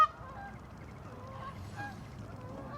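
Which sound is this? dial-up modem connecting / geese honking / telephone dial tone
geese honking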